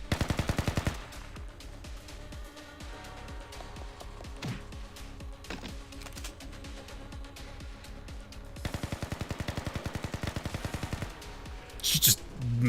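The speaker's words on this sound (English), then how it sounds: "She just mag dumped." A character in the video game Blue Archive emptying a gun's magazine: rapid bursts of automatic gunfire in quick rhythmic volleys, loud at the start and again later, with shorter scattered shots between and some voice underneath.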